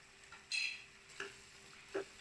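Chicken frying with onions in a pan gives a faint, soft sizzle, broken by three sharp scraping stirs at spaced intervals. No one speaks.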